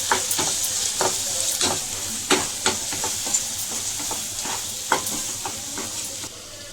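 Turmeric and chili powder stirred into prawn curry frying in a pan, giving a constant sizzling hiss broken by repeated sharp spoon scrapes and taps at an uneven rhythm, close and fairly loud.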